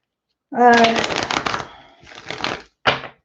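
A deck of cards is riffle-shuffled up close, a quick fluttering burst followed by a shorter second riffle and a final snap.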